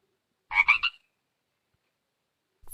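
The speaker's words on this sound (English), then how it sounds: "frog" A single short frog croak of rapid pulses, moderately loud and close, rising out of silence and then giving way to quiet.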